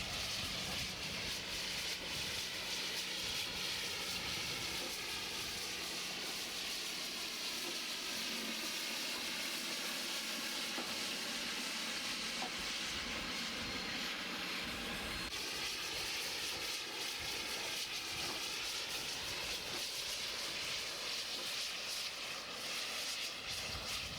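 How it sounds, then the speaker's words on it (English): Steam locomotive 819 arrives in the Cotton Belt Yard at East St. Louis, Illinois, with a steady roar of steam and rolling wheels that stays loud and continuous, shifting slightly partway through. "the locomotive is seen here arriving in the Cotton Belt Yard."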